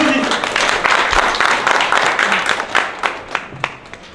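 Audience clapping at an art exhibition opening ceremony in Yongsan, dense at first then thinning to scattered claps, with a voice speaking over it.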